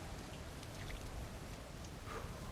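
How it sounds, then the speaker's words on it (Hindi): Heavy rain pours steadily in the Uncharted 4 video game, a dense, continuous hiss of drops drumming on surfaces, loud and unbroken with no voices. "और बारिश हो रही है बहुत खतरनाक"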